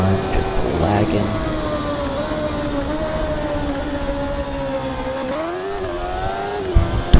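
In the RaceCraft racing video game, a race car engine wails at a steady high pitch with faint tire noise, then shifts and climbs again near the end, loud and continuous.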